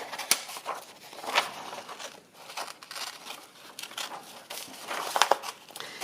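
Scissors cutting a small figure out of photocopied black-and-white paper, soft intermittent snips and paper crinkles, close and quiet.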